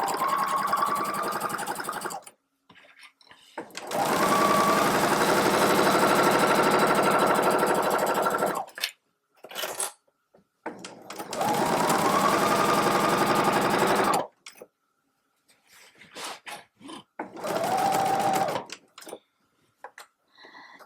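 A sewing machine stitches a simple fabric tote bag in several bursts of steady, fast whirring stitching, close and loud, separated by short pauses with the motor stopped.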